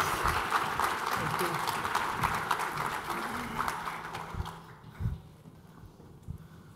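Audience applause welcoming a panel at an arms control keynote event, a steady wash of clapping from a crowd that thins out and fades to a few scattered claps near the end.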